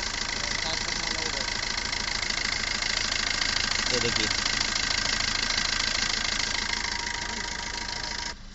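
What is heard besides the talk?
Maruti Suzuki Ertiga car engine idling after starting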